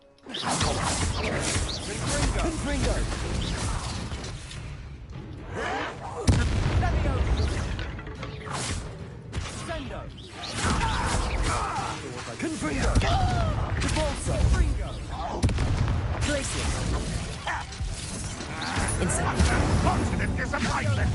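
Explosive Confringo spell blasts in the video game Hogwarts Legacy, with booming, crashing impacts that repeat through a loud, dense battle mix, with character voices calling out over the action.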